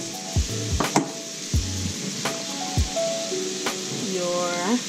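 Carrots, onions, peppers, broccoli and yellow squash fry in a pan for a pot pie filling, giving a soft, steady sizzle under scattered clinks and knocks of a utensil against the pan.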